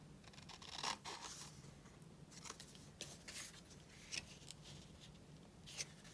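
Scissors trim paper for a Christmas idea book, a few faint, scattered snips and paper rustles close by in a quiet room.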